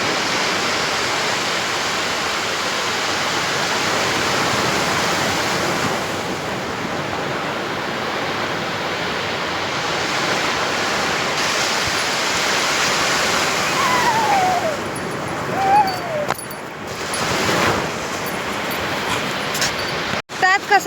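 Sea waves wash onto Arnala beach in a steady, loud broadband roar of surf that runs throughout, with brief brighter splashes near the end.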